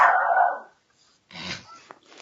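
A dog barks indoors during a talk-show recording, giving a loud rough bark and then quieter yips and whimpers after a short pause.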